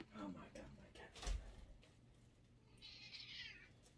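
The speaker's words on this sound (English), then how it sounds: "Oh my god, my cat." A house cat meows loudly and repeatedly nearby, with a few drawn-out calls, while a person talks over it indoors.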